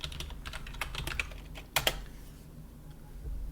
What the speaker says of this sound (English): from there you can type in ipconfig